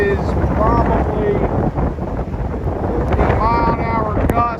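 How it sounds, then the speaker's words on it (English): Strong hurricane wind gusts buffet the microphone on the coast at North Wildwood, NJ, a loud continuous roar with surging blasts throughout. "The wind is really strong"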